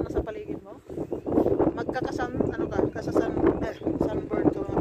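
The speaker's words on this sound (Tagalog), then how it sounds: "Lakas ang hangin!" Strong wind gusts outdoors on ice near Tatranska Lomnica in Slovakia, a continuous roaring buffet across the microphone that rises and falls throughout, heard under someone talking.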